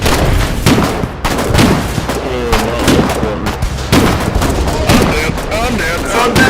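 Video game gunfire crackles in repeated bursts and single shots across the whole stretch, fairly loud and busy, with a voice talking over it at points.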